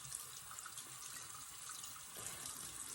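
A makeup brush rinsed under a running tap, with a steady soft hiss of water splashing into a sink, close and fairly quiet, no voices.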